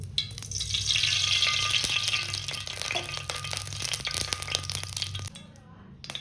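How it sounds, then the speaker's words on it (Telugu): Green chillies fry in hot oil for a Telugu coconut chutney to go with ganji dosa, giving a steady close crackling sizzle with faint clinks that fades near the end. "పచ్చిమిరపకాయలని వేయించుకుందాం"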